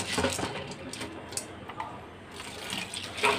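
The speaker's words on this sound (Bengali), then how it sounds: "আমি ডালটা প্রথমে ধুয়ে নিচ্ছি" Masoor lentils are washed by hand in water, with close, uneven splashing and sloshing that swells and dips over a few seconds.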